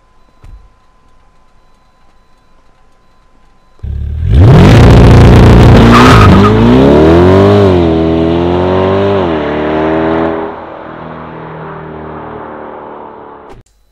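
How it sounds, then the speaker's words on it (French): Chevrolet C8 Stingray (2019) as the Coquette D10 in GTA: after a quiet start, a loud engine roar bursts in with revving and shifting pitch sweeps as the car drives and skids, then settles into a steady drone before cutting off. "La coquette D10 est donc une C8 Stingray de chez Chevrolet, datant de 2019."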